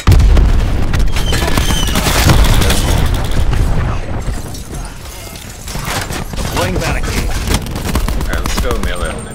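Grenade blasts and rapid gunfire in a Call of Duty Black Ops 4 deathmatch, with booming explosions and dense crackling shots throughout and a player talking over the action.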